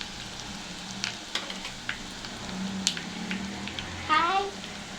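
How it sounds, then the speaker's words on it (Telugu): Crushed garlic frying in oil until brown gives a soft, steady sizzle with occasional light stirring clicks, fairly quiet throughout. "ఈ ఎల్లిపాయ మంచిగా వేగాలి, బ్రౌన్ కలర్ వచ్చేంత వరకు వేయించుకోవాలి"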